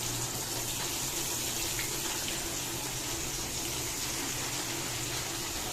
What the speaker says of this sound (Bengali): তো প্রথমে বেগুনগুলোকে ভেজে নেব। তো তেলও গরম করতে দিয়ে দিয়েছি।